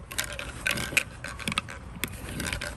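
Plastic snorkel mask parts being clipped together close up: a quick cluster of small clicks and light rattling taps over a couple of seconds, with no talking.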